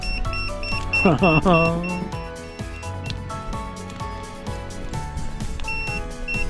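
Campfire smoke at a winter campsite sets off a smoke alarm, which sounds repeated short, high beeps while people nearby talk over it almost throughout.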